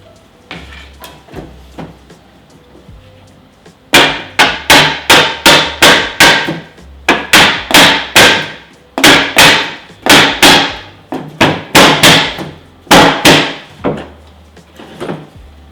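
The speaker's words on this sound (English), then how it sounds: "just try and move it around the bench and tap it" A glued joint on an antique Edwardian desk is knocked down onto a wooden workbench, a few soft taps followed by a long series of loud, sharp, rhythmic thuds in quick bursts.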